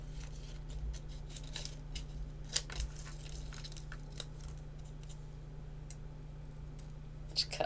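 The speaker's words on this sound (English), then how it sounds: "Let me cut this one out for you and show you." Scissors snipping through velveteen paper in a series of irregular sharp clicks and cuts, close by, over a steady low hum.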